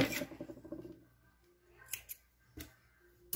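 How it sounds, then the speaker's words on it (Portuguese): Scissors snip through crochet yarn in a few sharp, close clicks and cuts, spaced out over a quiet background with small handling rustles. "Deixa eu já cortar esse fio, pra não atrapalhar."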